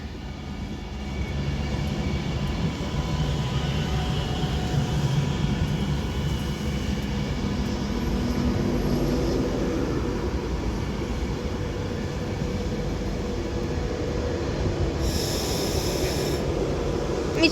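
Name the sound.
Avanti West Coast Class 390 Pendolino train arriving at Crewe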